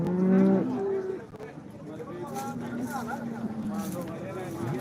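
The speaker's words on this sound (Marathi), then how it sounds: "आता आपण ह्या गायीची माहिती घेऊ थोडी" A cow at a rural livestock market gives a loud, close moo at the start, then a longer, lower moo follows under the steady hum of people talking.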